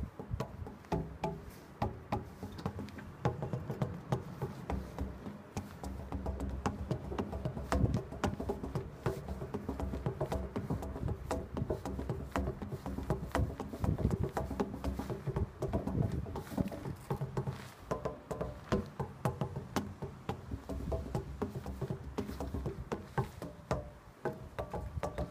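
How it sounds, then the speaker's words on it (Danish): Knocking on granite or marble wall cladding panels, a steady run of dense taps and knocks filling the whole stretch, fairly close and busy with no talk over it. "og det er beklædt med en slags granit, eller marmorplader, som har forskellige lyd."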